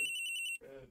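An electronic telephone rings in the Phoenix Wright video game, a loud, bright trill of rapid repeated pulses lasting about half a second, followed by a short burst of voice.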